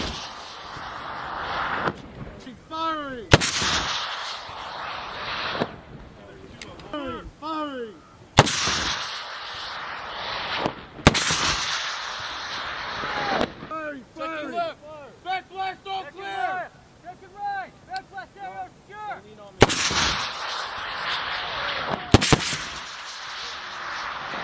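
A U.S. Marine M3E1 MAAWS Carl Gustaf anti-armor weapon fires several loud, sharp blasts at intervals, each followed by rolling echoes, with shouted range commands and talk in between.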